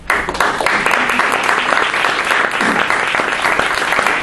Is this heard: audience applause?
yes